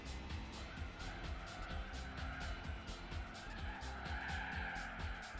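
A Lancia Stratos rally car in Gran Turismo 4 skids through a corner, a sustained tire squeal over a rapidly pulsing engine note, with someone talking over it.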